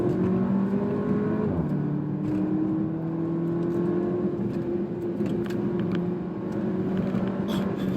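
A 2019 Porsche Macan with a 2.0L four-cylinder accelerates in Sport Plus mode, its engine note rising steadily, dropping at a gear change, then climbing again, heard from inside the cabin with no talk.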